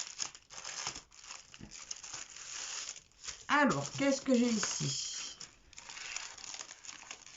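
Paper packaging crinkles and rustles while someone unpacks a cross-stitch kit, the dry crackle running through most of the clip under a short spoken question in French.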